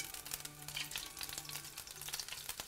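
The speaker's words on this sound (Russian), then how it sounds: "Пока мясо жарится," Beef pieces frying in oil in a pan for beef stroganoff give a steady, close sizzle with small crackles and pops running throughout, with no talk over it.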